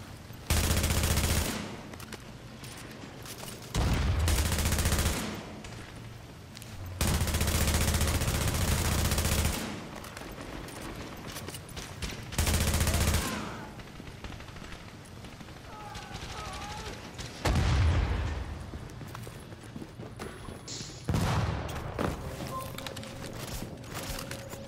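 Heavy machine gun fire in The Division during an incursion mission, arriving in several loud sustained bursts separated by quieter stretches of battle noise.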